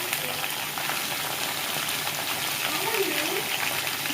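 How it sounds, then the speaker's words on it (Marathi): Brinjal and onion fry in hot oil with an even, continuous sizzle close to the microphone, a faint voice audible beneath it. "मस्त तेलामध्ये मस्त फ्राय झालेलं आहे आता ह्याच्यामध्ये आपल्याला कांदा टाकून घ्यायचा आहे"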